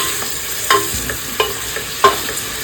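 Onions, cloves and tomato sizzle in a pressure cooker as the base for chicken biryani, a steady frying hiss broken by three distinct scraping stirs of a spoon against the pot.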